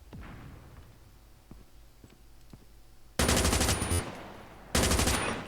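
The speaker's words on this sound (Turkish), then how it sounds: "Böyle bu kocaman bir ağır makineli." Heavy machine gun in Call of Duty Mobile firing two loud sustained bursts, the first lasting under a second and the second shorter, after quieter scattered game noises and faint clicks.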